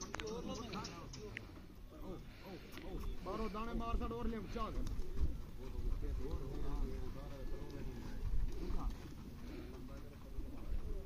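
Pigeons coo repeatedly in rolling, throaty phrases close by, with a person talking at the same time.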